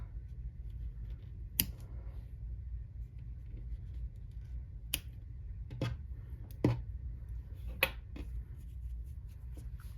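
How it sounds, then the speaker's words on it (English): Scissors snip yarn ends on a crocheted flower bookmark, a few sharp, separate cuts spaced over several seconds, close by and fairly quiet above a low steady room hum. "And then I'll just cut the ends."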